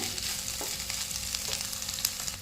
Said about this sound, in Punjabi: ਦੋ ਮਿੰਟ ਆਪਾਂ ਮਸਾਲੇ ਨੂੰ ਹੋਰ ਇਹਨੂੰ ਪਕਾ ਲਾਂਦੇ ਆ